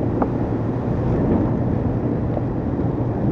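Strong wind at sea aboard the racing trimaran Groupama 3 during a Jules Verne Trophy round-the-world attempt, gusting above 35 knots: a steady, loud roar of wind and rushing water that stays constant, with no voices.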